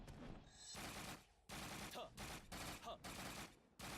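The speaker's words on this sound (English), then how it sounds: "Even though he's resistant to twin machine guns, why not?" Bursts of rapid gunfire from twin machine guns in the online action game PSO2, several loud back-to-back volleys separated by short gaps, with faint game voice underneath.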